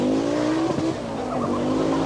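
Audi Quattro rally car at the 1985 Hellendoorn Rally in Holland, its engine droning steadily with a pitch dip and recovery mid-pass, tyres scrubbing on the stage, close and loud throughout.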